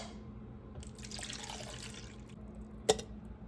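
Water is poured into the reservoir of a new Mr. Coffee coffee maker, a faint trickling splash lasting a couple of seconds in a quiet kitchen, ending with a sharp click.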